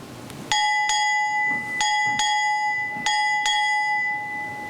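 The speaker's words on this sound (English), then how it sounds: "Strike 6 bells." A ship's bell rings six times in three pairs of clear, resonant strikes, each ringing on briefly before the next pair, at a Navy change of charge and retirement ceremony.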